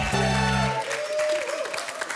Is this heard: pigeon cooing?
no